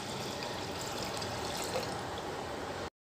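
Water poured steadily over soaking rice and black gram lentils in a kitchen, a continuous close rushing pour lasting about three seconds before stopping abruptly.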